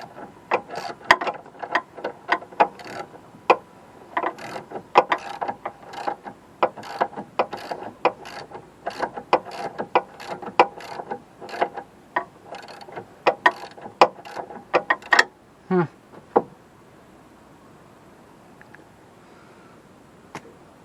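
A ratchet wrench clicks in quick, steady bursts against a stuck nut on a Jeep Compass front end, close and crisp, then stops with a couple of final clunks and quiet.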